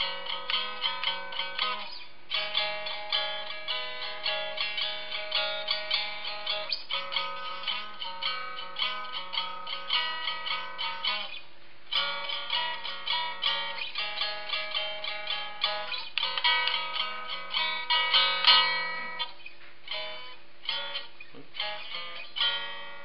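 Three-string cigar box guitar strums a basic blues progression, steady rhythmic chords with a twangy, bright tone, played close and continuously with no talking.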